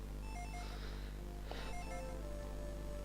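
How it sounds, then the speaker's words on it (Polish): A telephone rings in the Dragon Ball Z: The Legacy of Goku II video game, a faint repeating electronic ring tone over a steady game-music background. "Telefon. Dzwoni."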